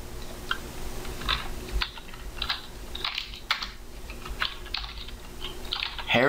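Quick bursts of keystrokes clatter on a computer keyboard during a Game Dev Tycoon session, irregular runs of clicks with short pauses between them, close and clear.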